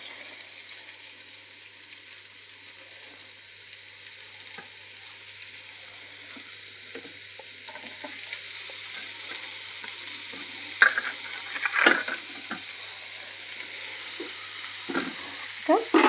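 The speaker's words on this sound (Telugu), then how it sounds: "ఎర్రగడ్డని బ్రౌనిష్ కలర్లో వచ్చేంత వరకు ఫ్రై చేసుకున్నాము." Onions frying in a pan until browned, a soft, steady sizzle broken later by scraping and clattering stirring strokes that grow more frequent toward the end.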